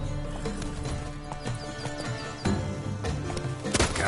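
Roach the horse in The Witcher 3 clops along with a steady run of hoof beats, fairly close, mixed with faint game ambience and a brief louder rustle near the end.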